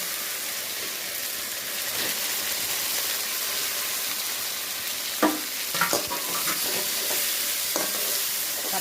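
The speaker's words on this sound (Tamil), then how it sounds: "தக்காளியே தெரியாத அளவுக்கு நல்லா கரைஞ்சி வரணும், அந்த அளவுக்கு வதக்கிக்கலாம்" Tomato sautéed with ginger-garlic paste in a pan for spicy country chicken fry, a steady close sizzle with a few louder spatula scrapes and stirring clicks near the end, no voices.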